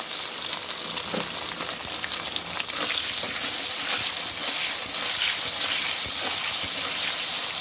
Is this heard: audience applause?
no